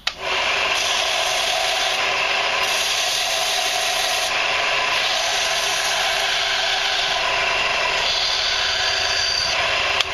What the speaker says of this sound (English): It's got some little bulging here on the edge, so I'm going to sand that off